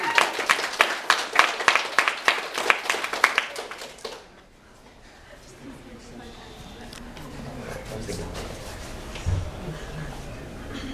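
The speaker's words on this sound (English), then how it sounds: "Give him a round of applause, everybody." Loud, dense clapping from a crowd for about four seconds, then fading into a low murmur of audience noise.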